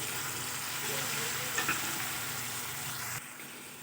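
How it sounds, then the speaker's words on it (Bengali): Mustard paste mixed with water goes into a pan of frying drumstick vegetable, making a loud, continuous sizzle that drops abruptly quieter near the end. "এবার আমি এখানে দিয়ে দিচ্ছি পেস্ট করে রাখা সর্ষেটা একটু জলে গুলে"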